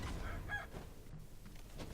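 A chicken in the video game Sekiro gives a few short clucks and squawks, fairly close and brief, with no talk over it.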